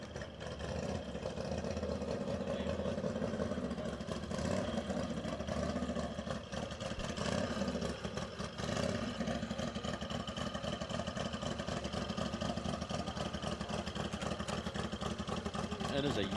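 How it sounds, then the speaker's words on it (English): A Yamaha YZ100-engined land speed racer runs at El Mirage dry lake, with a continuous buzzing engine drone at a fairly steady pitch under an announcer's commentary. "It is a Yamaha YZ engine, YZ100."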